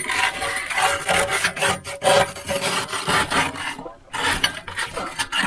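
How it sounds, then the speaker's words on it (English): Soot is scraped from inside a wood stove chimney during a monthly sweep, a loud, close, continuous rasping scrape with one brief pause before it resumes. "I got to scrape that down too."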